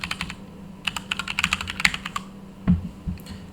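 Rapid, uneven keystrokes on a computer keyboard while working through chemistry homework, clustered bursts of clicky taps with short pauses and a heavier thump near the end, close and moderately loud with no talking.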